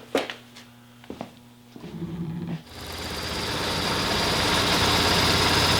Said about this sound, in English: This is idling now, and under load the levels are the same.